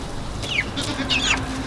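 Silkie and Cornish chickens clucking in a pen, a few short, fairly close calls over a steady background hum.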